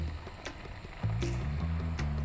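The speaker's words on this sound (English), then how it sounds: "add the flour." Flour is added to melted butter in a pan for a béchamel roux, giving a steady close sizzle with a short bubbling burst partway through, with no voices.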